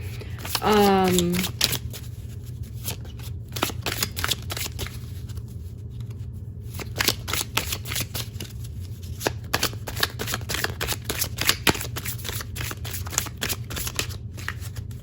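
Oracle cards being shuffled by hand, a steady run of soft papery riffles and taps close by, with a brief voiced sound near the start over a low constant hum.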